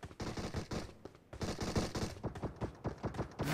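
Automatic gunfire crackles in a PUBG Mobile match as a string of quick, evenly spaced shots in several bursts, fairly quiet and distant, with no voices.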